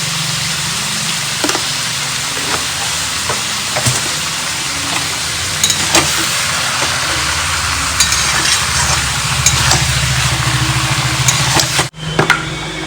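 Mutton goes into a pan of fried onions and sizzles steadily and loudly throughout, with occasional knocks and scrapes of a spoon against the pan and a brief sharp dip near the end.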